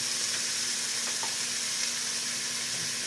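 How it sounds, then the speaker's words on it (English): Ground beef for dirty cabbage sizzles steadily in a hot pan, a dense continuous frying hiss up close with faint stirring clicks and no talking. "And now we're going to go in with ground beef."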